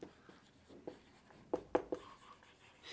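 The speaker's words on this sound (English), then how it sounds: "Let me write that one here" Handwriting with a marker or pen, a few short scratchy strokes, a couple of them sharper and louder, close and on their own over quiet room tone.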